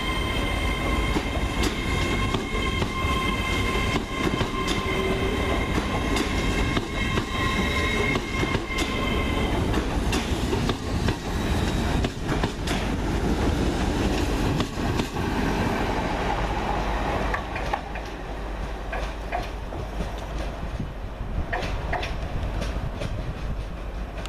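A Class 802 train 802-205 pulls out of Newcastle Central Station bound for Liverpool Lime Street, its steady engine hum and rolling wheels loud and close, with faint squeals and rhythmic track clatter fading slightly toward the end.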